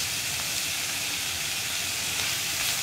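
Sliced onions (savola) sizzle in a pan for a chana kuruma, a dense, steady frying hiss that stays loud and even throughout, close up with no voices.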